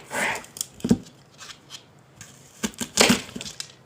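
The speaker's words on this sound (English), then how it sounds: "So now what I'm going to do is I'm going to go ahead and cut up the apple here." Knife cutting through an apple on a board, several short crunchy slicing strokes in two clusters, close and moderately loud with quiet gaps between.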